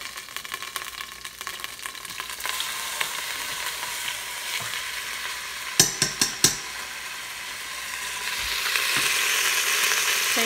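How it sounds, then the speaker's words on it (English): Pot roast meat browns in a Crock-Pot Express, giving a steady close sizzle and frying hiss, with a few sharp metallic knocks from a utensil partway through and the sizzle growing brighter toward the end. "I'm gonna go ahead and brown the other piece."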